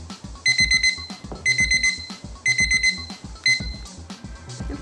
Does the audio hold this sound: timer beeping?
yes